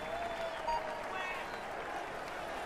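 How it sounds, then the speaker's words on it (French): A crowd applauds continuously at the start of a cycling race stage in the video game Tour de France 2015 Pro Team, a dense wash of clapping that holds steady throughout. "on l'applaudit bien fort"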